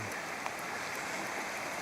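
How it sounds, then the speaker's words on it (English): Steady rain hisses continuously, a broad even wash of patter with a few faint drips standing out, no voices. "Raining, it's pouring,"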